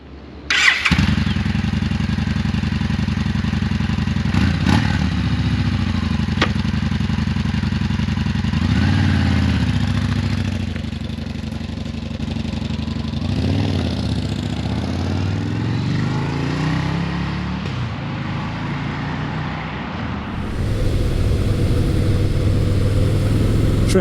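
A Yamaha SCR950 motorcycle rides along a road, its engine droning steadily and close for the whole stretch, with small shifts in pitch as it changes speed and a louder surge near the end.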